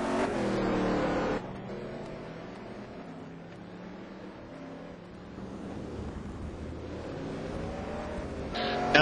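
Koenigsegg race car in a GT racing video game at Donington, engine note revving loudly at first, then dropping to a quieter, lower drone before rising again near the end, with no talk.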